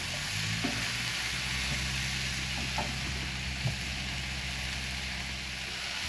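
Chicken stir fry sizzling steadily in a hot pan as leaves and tomatoes are tossed through, a constant close frying hiss with a few soft scrapes and knocks of the pan and utensil.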